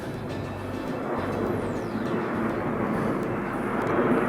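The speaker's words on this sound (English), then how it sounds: "Another plane, of course." An airplane passes overhead above a garden, a steady broad engine drone holding at moderate loudness for the whole stretch with no talking.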